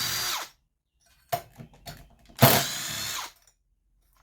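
A power tool whirs in short bursts while the cylinder is removed from a 58cc Chinese chainsaw, with two loud runs of about half a second to a second and a few brief clicks and buzzes between them, close by.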